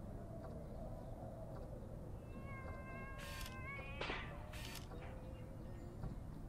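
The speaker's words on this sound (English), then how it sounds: "do you guys hear a cat?" Cat meowing inside a house in the game Conway: Disappearance at Dahlia View, several faint drawn-out meows and cries over a low ambient hum.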